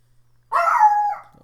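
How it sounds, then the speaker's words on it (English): A pet dog lets out a single loud, close bark that drags into a short howl-like tail, with silence before it and no talk. "is my dog barking for? Stop it, please."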